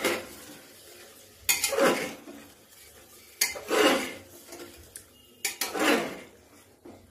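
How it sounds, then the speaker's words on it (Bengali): Spoons scrape and clatter against a pot three times, stirring chicken masala spices with torn green chillies in a home kitchen, with a faint sizzle between the strokes and no voices. "দিয়ে আমরা সমস্ত মশলাটা এইভাবে এবার কষতে থাকবো।"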